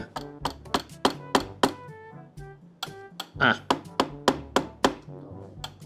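Repeated sharp hammer blows, about a dozen hits in an uneven rhythm, close by, with a brief spoken word between strikes.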